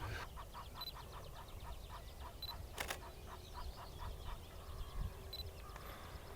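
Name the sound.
geese and ducks on a pool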